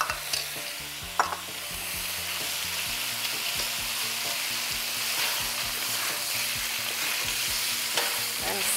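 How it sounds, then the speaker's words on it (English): Thinly sliced onion frying in a pan and stirred, a continuous close sizzle with a low humming tone underneath and occasional knocks of a spoon against the pan, no speech. "add 1 cup of thinly sliced onion"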